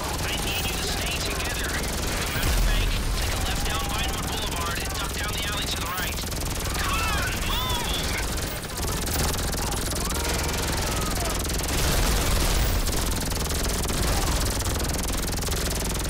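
Gunfire in the GTA Online video game, a dense continuous barrage of shots and engine noise filling the scene loudly throughout, with players talking over the action.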